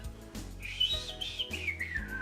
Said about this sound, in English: pulls up, whistling just nonchalantly like, again